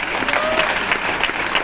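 An indoor auditorium audience claps loudly and continuously, a dense crowd applause filling the whole moment.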